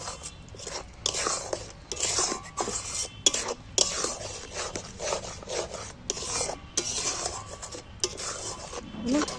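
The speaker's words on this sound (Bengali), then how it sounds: "দেখো মশলাটাকে নাড়াচাড়া করে ভালো করে কষিয়ে নিয়েছি" Spices being stirred and fried in a pan for a Bengali egg dish, heard as a close, rhythmic scraping of a spatula across the pan with a sizzle beneath, the strokes repeating steadily throughout.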